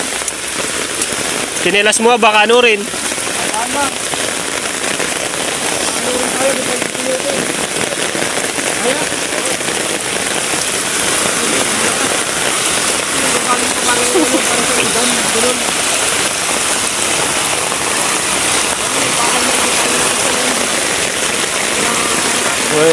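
Heavy rain pours steadily in the mountains, a loud, dense hiss of drops drumming on surfaces throughout, while people speak briefly near the start.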